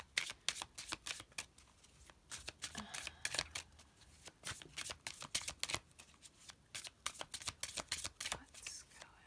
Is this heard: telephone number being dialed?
no